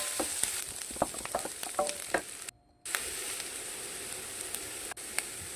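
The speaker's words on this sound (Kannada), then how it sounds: "ಒಂದು ಸ್ವಲ್ಪ ಹಸಿ ವಾಸನೆ ಹೋಗೋವರೆಗೆ ಫ್ರೈ ಮಾಡ್ಕೊಳ್ಳಿ" Ginger garlic paste frying in a pan for a paneer green masala, with a steady close sizzle and several scraping stirs, then a brief silent gap before the sizzling resumes.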